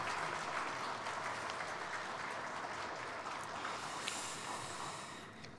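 A church congregation at a Sunday worship service in Incheon applauds in a sustained, dense wash of clapping that fills the room and slowly tapers off near the end.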